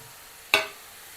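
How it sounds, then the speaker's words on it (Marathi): Full cream milk hits hot ghee in a pan of bottle gourd halwa, giving one brief, sharp sizzling hiss that quickly dies away into a quiet kitchen. "दूध मी इथे एकदम फुल क्रीम घातलेलं आहे"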